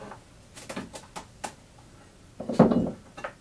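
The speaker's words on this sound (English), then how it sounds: "Now all that's left to do is just go ahead and pop these out of the pan." Wax candles are popped out of a pan, giving a handful of sharp, close clicks and knocks spaced apart, then a louder clattering scrape near the end, with no talking.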